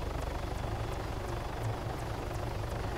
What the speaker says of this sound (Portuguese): A galera não tá me ouvindo, porque o helicóptero faz muito barulho.